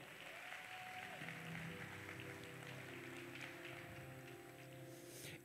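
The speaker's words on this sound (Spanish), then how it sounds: "Denle un fuerte aplauso a Austin." Applause for Austin from a church-style gathering, fairly faint and somewhat distant clapping mixed with a hum of tonal background sound and low murmuring that continues for about five seconds.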